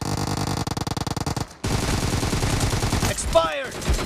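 Sustained automatic gunfire in a mobile shooter, first in fast clipped bursts, then after a brief gap as a dense continuous roar of shots. A short voice line from the game breaks in near the end.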